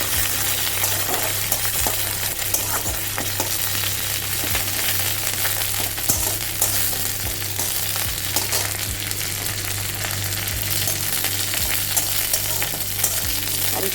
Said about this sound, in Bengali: কারি পাতাটা একটু ভাজা ভাজা করে নেব।